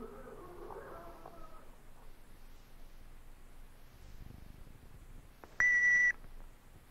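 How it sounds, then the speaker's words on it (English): A single steady electronic answering machine beep sounds near the end, loud and clear after several seconds of quiet background hiss and faint murmur. "Wait for the sound of the beep."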